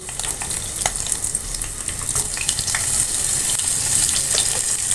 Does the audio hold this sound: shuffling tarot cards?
no